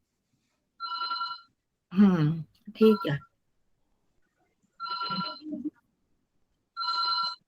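A mobile phone rings during an online Sanskrit class, three short, evenly spaced trilling bursts that are clear and close, with someone briefly talking between the first and second rings.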